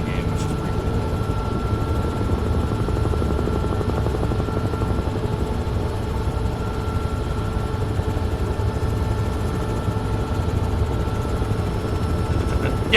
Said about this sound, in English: There's a Chinook, CH-47 and a CH-46,